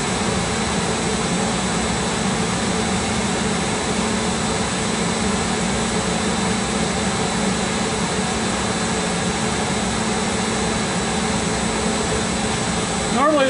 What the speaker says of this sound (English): you're going to start seeing the fan motor speed slow down to compensate for